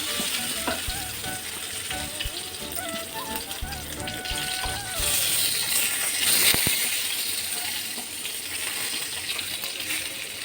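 Stuffed capsicum (shimla mirch) fries in a pan with a constant crackling sizzle, scattered small pops and a brief clatter of a utensil or lid midway; no one speaks.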